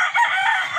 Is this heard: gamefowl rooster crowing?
yes